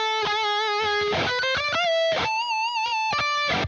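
Electric guitar notes and chords ring out with a light, subtle reverb tail, played alone at moderate volume with brief gaps between phrases.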